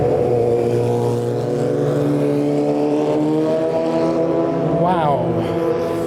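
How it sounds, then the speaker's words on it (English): A motor vehicle passing on a summer city street in Toronto's Bloor West Village, a steady engine drone throughout with a brief revving sweep near the end, under loud background ambience. "Nothing says summer more than a motorcycle sound on the street, right?"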